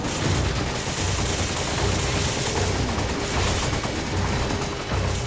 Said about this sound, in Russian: Надо стрелять в голову в тот момент.